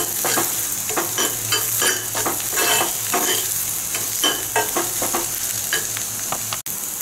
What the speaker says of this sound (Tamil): இப்போ பாருங்கள் இது நல்லா ஃப்ரை ஆகிடுங்க